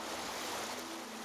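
Floodwater from a broken levee gushes across a road near farm fields in the Miller City and Olive Branch area during the 1993 flood, a steady, loud, broadband rush of moving water with no pauses.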